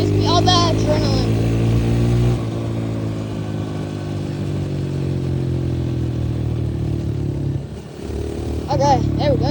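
A dirt bike engine hums steadily during a ride, with its pitch easing and dipping briefly near the end, while a voice speaks at the start and finish.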